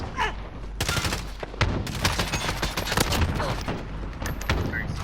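Rapid bursts of Odin rifle fire in Modern Warfare crack out in quick succession, sharp loud shots clustered densely across the span amid game noise and some background voice.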